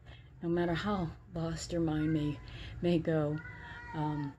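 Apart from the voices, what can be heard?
cat meowing in the background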